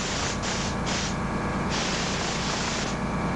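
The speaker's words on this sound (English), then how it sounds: "I bring that black spray down on each side of the lower jaw a little bit." Hissing bursts of black spray paint from an airbrush onto a bluegill taxidermy mount, several on-off sprays with short gaps, close and steady.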